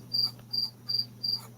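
Crickets chirp in a steady rhythm, four evenly spaced bursts of bright trilling over a low constant hum, close and clear.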